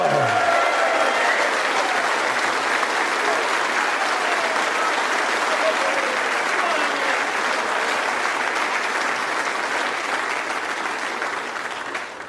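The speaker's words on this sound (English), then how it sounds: "Please give a huge round of applause." Snooker audience applauding the runner-up at the Champion of Champions final, a steady, loud wash of clapping from a large crowd that holds for about twelve seconds and thins slightly at the end.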